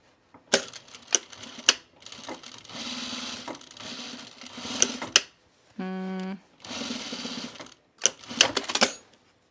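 A sewing machine stitches a V-neck coat in several short runs and one longer burst, with a steady whirring drone between bursts of clicks and taps from handling the fabric.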